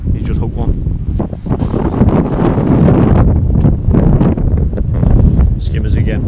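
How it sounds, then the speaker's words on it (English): Strong wind buffets the microphone at a fishing lake during a match, a loud continuous rumbling roar with gusts, while someone talks over it. "this wind's really blowing into these pegs"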